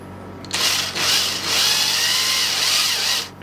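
A power drill whirs steadily into 3D-printed plastic held in the hand, starting abruptly and running almost three seconds with brief dips in speed before stopping; close and loud.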